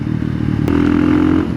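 A KTM 500 EXC-F 2019 supermoto motorcycle runs close by, its engine holding a steady low drone with a brief mechanical clatter partway through, loud and continuous with no talk.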